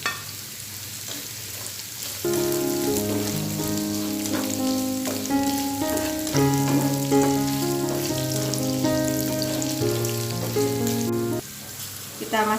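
Small eggplants hit a hot pan of wilted shallots for an Indonesian tumis, and a strong, steady sizzle runs throughout with light stirring crackles, under background music and no talk.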